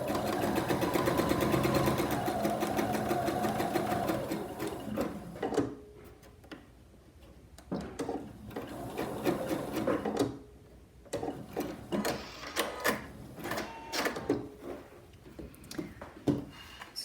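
A serger sewing machine back-stitches a fabric mask, a close, rapid mechanical whirring that runs steadily at first, then breaks into short stop-start bursts with clicks between them.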